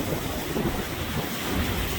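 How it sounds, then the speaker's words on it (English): Wind-driven waves with whitecaps on floodwater the morning after Hurricane Ian in 2022, a constant churning wash under heavy wind buffeting on the microphone. "Look at the waves."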